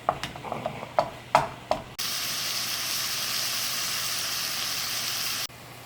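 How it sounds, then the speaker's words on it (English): Hamburger meat sizzles in a pan over medium heat: several sharp scraping taps as it is broken apart, then a steady loud frying hiss for a few seconds before the sound drops off. "So just get your hamburger in there, medium heat, and just break it apart."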